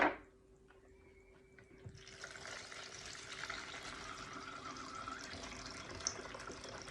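Milk at room temperature pours in a steady liquid stream from an opened one-litre carton with a hole cut on the opposite side. The pour starts after a short quiet moment, then runs continuously and fairly softly to the end.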